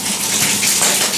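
Water gushes loudly and steadily as it is poured down through the valve casings of a euphonium during cleaning, a close continuous splashing rush.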